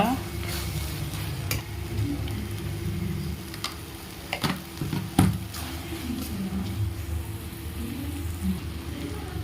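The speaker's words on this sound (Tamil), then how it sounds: "புதினா கொத்தமல்லி நல்லா வணங்கணும்" Mint and coriander sizzle quietly in a pan while a utensil stirs and scrapes against the metal, with a few sharp clinks.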